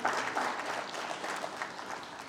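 Steady applause from an awards ceremony crowd honouring martyrs and their widows in Uttarakhand, a dense even patter of many hands clapping throughout, with no voices heard over it.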